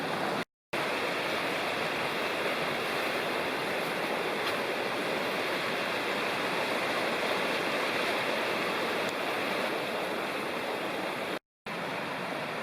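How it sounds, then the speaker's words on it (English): Jakes Creek in the Great Smoky Mountains rushes in a constant, full broadband roar of flowing water, heard close and steady throughout apart from two brief dropouts. "Here's Jakes Creek"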